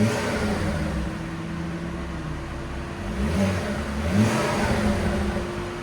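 A 2008 Volvo C70 2.5L turbo five-cylinder idles on its stock exhaust then revs a couple of times, a smooth, fairly quiet exhaust note rising and falling, heard up close.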